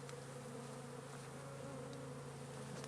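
A dense, steady buzzing of a large swarm of bees being collected into a hive fills the space continuously, close and humming without pause.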